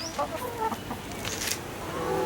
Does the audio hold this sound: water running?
no